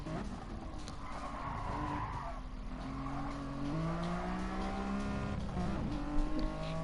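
Greddy Cooper Z race car sliding through turn 5 at Tsukuba, tires squealing in long rising and falling skids over a steady engine roar, loud and close.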